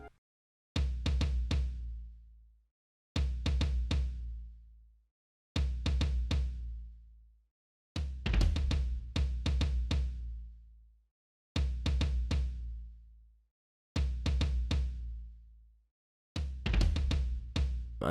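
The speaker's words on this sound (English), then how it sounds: "Then next up we have this tom that also came in" Tom drum from an Afrobeats beat remake, struck alone in a steady pattern of seven punchy, booming hits with short decays and pauses between them.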